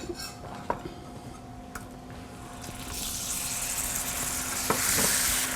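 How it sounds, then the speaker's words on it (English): Butter goes into hot amber caramelized sugar in a pan just off the heat, and a soft sizzle swells and grows steadily louder, with a few light clinks of utensils against the pan. "I'm going to add our butter to it."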